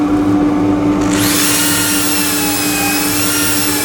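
A power sander with 180-grit abrasive works a square wooden plate on a lathe, a steady, loud whirring grind that brightens into a harsher hiss after the first second and runs on continuously without talk.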